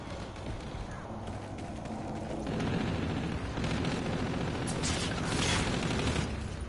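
Dense, continuous gunfire from a gun in a first-person video game, loud and sustained throughout with no gaps. The barrage thickens and grows heavier about midway, and no voices are heard over it.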